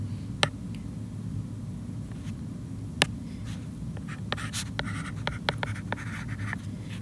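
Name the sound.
writing the proof on a board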